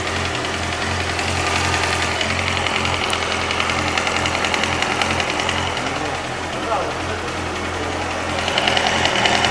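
A 2007 Yamaha R6 motorcycle engine idles after a crash onto its right side, with a rapid, steady knocking from the cylinder head heard up close and loud, and voices faintly in the background.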